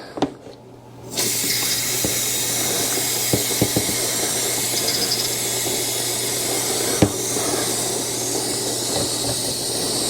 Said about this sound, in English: And I'm going to go ahead and spray this out.